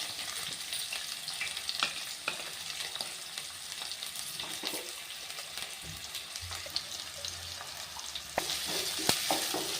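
Chopped onions fry in oil with mustard seeds and cumin for a Telugu ridge gourd and moong dal curry, giving a steady close sizzle with scraping stirs and light crackles throughout.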